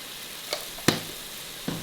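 Masala of spices and red chilli frying in oil for mutton pulao, a faint steady sizzle broken by three sharp spits or pops spaced across the stretch.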